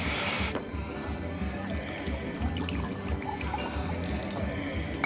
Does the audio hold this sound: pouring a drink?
yes